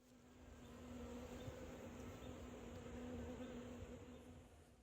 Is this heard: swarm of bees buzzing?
yes